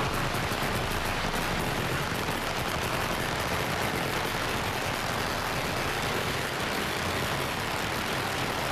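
Dense, continuous crackling bursts of firecrackers popping rapidly without pause at the 2014 San Francisco Chinese New Year Parade, loud and close, with no voices.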